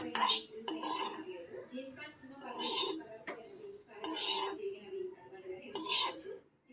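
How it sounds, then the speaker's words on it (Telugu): A metal spoon scrapes and clinks against a pan as chicken liver fry is stirred, in several bursts of rasping strokes with short pauses between them, close and fairly quiet. "ఇలా మగ్గిన తర్వాత మరలా కలుపుకోవాలి"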